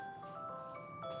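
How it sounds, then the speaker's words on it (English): A phone alarm rings in a chiming, melodic tone, faint and brief against a quiet room. "That's my phone. That's my alarm."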